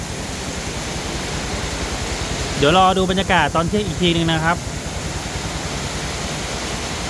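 Heavy rain pours steadily in Mueang district, Uttaradit, a constant broad hiss throughout, with someone speaking over it for a couple of seconds in the middle.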